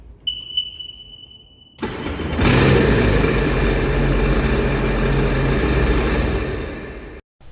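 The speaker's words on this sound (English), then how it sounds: "now it's the time for us to test the jet ski." A faint whine, then a Sea-Doo GTI 130 jet ski engine cranks and catches after starter replacement, settling into a loud, steady running rumble close by before cutting off abruptly.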